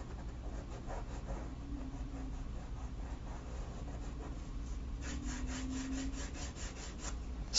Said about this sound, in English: So now I'm going to work a little bit on this with my eraser.